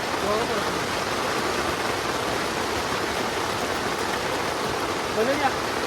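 Heavy rain pours down in a forest at night during a camping trip, making a loud, continuous, even rush of water with no break.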